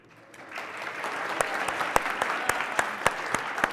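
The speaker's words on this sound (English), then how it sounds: "We want to give a big round of applause to our coaches" Applause at a regional tournament awards ceremony for coaches, competitors and volunteers, swelling from quiet into a full crowd clapping with sharp individual claps standing out near the front.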